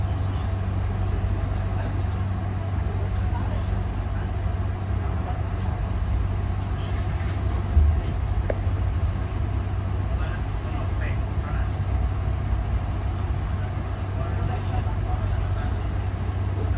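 Inside an executive-class passenger train leaving Kroya station: a steady low rumble and hum that continues throughout, with a faint clunk midway and no voices heard.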